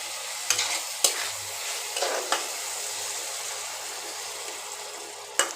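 Loud, steady sizzle of hot oil in a pan for paneer and okra curry, with water splashed in and sharp stirring clatters at intervals; no talking.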